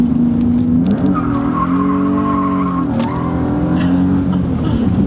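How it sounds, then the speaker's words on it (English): A car with a manifold tune drifts with a loud, sustained tire squeal and a droning engine at close range, the squeal wavering in pitch and briefly dipping before continuing for the full stretch. "I'm obviously not a pro at drifting, but I'm definitely practicing."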